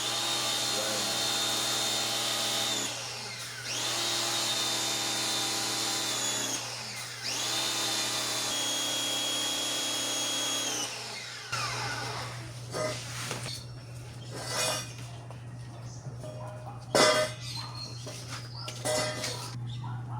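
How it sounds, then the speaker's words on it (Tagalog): A Soarfly high pressure washer motor whines in three repeated bursts, cutting off and restarting, then a steady hum continues under scattered clatter and someone talking. "gumagana pa rin po yung Surfly pressure washer"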